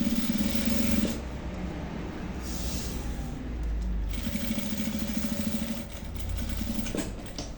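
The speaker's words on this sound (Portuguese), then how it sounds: "vou iniciar costurando aqui um pezinho de máquina" Sewing machine stitching fabric for a box-style toiletry bag, a quiet rapid mechanical whirr in short runs with pauses between them, close and fairly soft.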